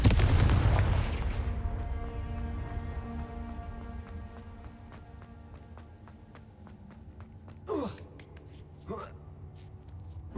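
Confringo blasting spells set off explosions in Hogwarts Legacy: a heavy boom at the start decays into a long rumbling tail, then two sharp blasts follow near the end.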